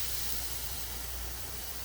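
Steaks sear on a grill with a close, steady sizzling hiss, even and unbroken, no voices over it.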